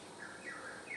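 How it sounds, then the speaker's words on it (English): Small birds chirp outdoors in short, repeated high calls over a steady background hiss, heard near the water at a whale-watching spot on a trip. "And hear the birdies?"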